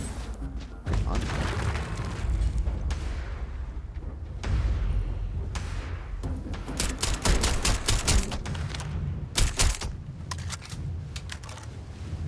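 Gunfire in the sci-fi video game Starfield, rapid automatic bursts of sharp cracks, close and loud, coming in fast clusters after a stretch of rumbling combat noise, with occasional brief talk.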